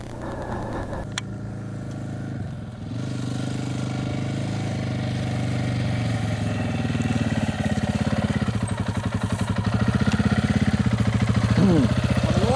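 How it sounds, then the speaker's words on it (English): Honda XR650 dirt bike ridden on sand in Wyperfeld National Park, a continuous engine drone building in loudness as it approaches, with throttle surges toward the end. "There he comes! Big Red, the XR650."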